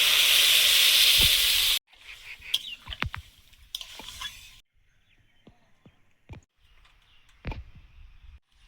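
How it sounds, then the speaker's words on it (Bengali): Gravy with cashew, poppy seed and ginger paste for a paneer curry, sizzling loudly as water goes in, then bubbling quietly in the pot with scattered clinks and pops. "ঝোলটা ফুটছে"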